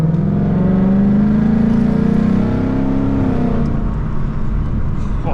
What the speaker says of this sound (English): I'm not even like fully throttling it or going crazy with the car. It's just this exhaust